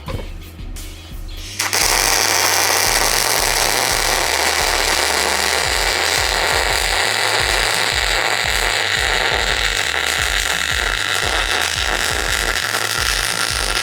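Weld Vision Explorer 200 arc welder running on high at 24.5 volts and 200 amps, a loud continuous crackling buzz that starts abruptly after a quieter moment and holds steady throughout.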